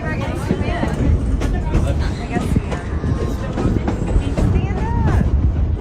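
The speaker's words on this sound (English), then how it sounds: "as the train continues on its journey" A train runs along the rails with a steady rumbling roar and faint clatter, close and loud, with passengers' chatter mixed into the continuous noise.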